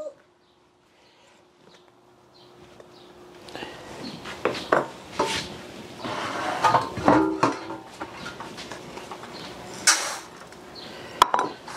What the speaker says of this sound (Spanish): Aquí voy a poner la cazuela para dorar el arroz.